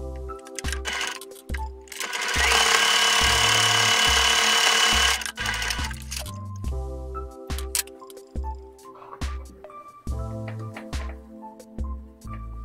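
A sewing machine stitches the bottom seam of a tenugui cotton cloth shopping bag, with bursts of rapid mechanical whirring and thumping separated by short pauses and clicks, close and fairly loud.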